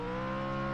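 Race car engine in a racing video game, a brief, steady, loud buzzing engine drone with no pauses and no talk.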